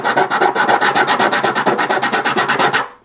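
A rasp or file rubs rhythmically across wood beneath a guitar bridge on a Kay Grand Auditorium guitar, close and loud, about twenty quick even strokes in steady back-and-forth succession before stopping.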